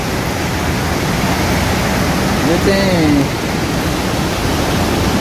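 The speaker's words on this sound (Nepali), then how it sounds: "यो भुन्सा खोला हो" Continuous rushing of the fast Bhunsa Khola mountain river in Nepal fills the clip, loud and even, with a voice speaking briefly over it.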